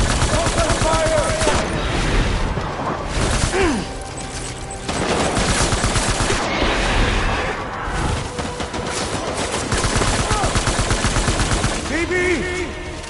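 Rapid bursts of automatic gunfire from a Death Stranding firefight, loud and dense, with repeated volleys and short gaps under occasional shouted voices.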